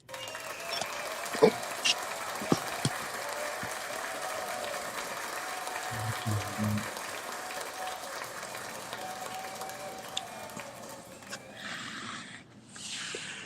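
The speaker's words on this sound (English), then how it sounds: "Round of applause to them." Faint applause for the judges on a rap battle tournament podcast, a soft, steady wash of clapping that sounds distant and low in level, with a few sharper knocks along the way.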